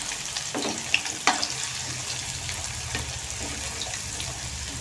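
Food fries in a pan over a medium flame, giving a steady close sizzle with a couple of sharp clinks and no talking.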